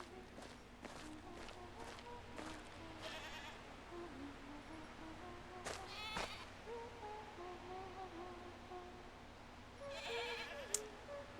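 Goats in the video game Mundaun bleat in a few short, separate calls over a soft ambient backdrop with occasional footstep-like taps, moderately distant and fairly quiet.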